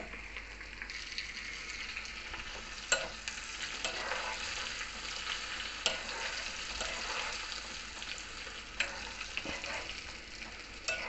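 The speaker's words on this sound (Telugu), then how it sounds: "ఇవి కొంచెం వేగిన తర్వాత ఎండుమిర్చి వేస్తాను" Asafoetida, spices and dried red chillies fry in hot oil for a tempering for tamarind pickle, giving a steady, close crackling sizzle with occasional louder pops and stirring scrapes and no talk.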